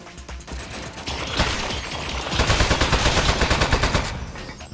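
Rapid bursts of gunfire from an armed turret in the video game Aperture Desk Job, a dense, loud rattling that builds and holds steady for several seconds with no voices over it.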